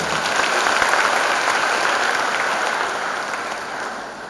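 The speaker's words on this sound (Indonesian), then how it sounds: "Mari kita beri tepuk tangan ya." A large hall of graduates and guests at a university graduation ceremony claps in a broad, steady wash of applause that slowly tapers toward the end.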